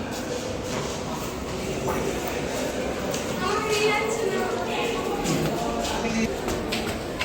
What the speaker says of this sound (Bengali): দেখো আমরা ট্রেনে উঠে পড়েছি আর ট্রেন কিন্তু বেশ ফাঁকাই ছিল